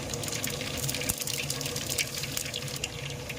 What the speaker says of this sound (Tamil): எண்ணெய் காஞ்சிச்சு இப்போ கடுகு போடுறோம்